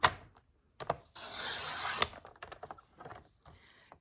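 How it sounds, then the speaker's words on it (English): A paper trimmer blade slides through a sheet of paper. A few light clicks come first, then about one second of steady, close scraping as the cut is made, followed by soft taps and handling noises, all fairly quiet. "So you can line it up on your right hand side of your paper trimmer"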